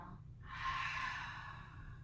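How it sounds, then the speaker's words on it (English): A single long exhale through the mouth during a chair yoga session, a soft breathy whoosh that swells and fades over about a second and a half, close and alone. "Inhale. Out through the mouth. Exhale."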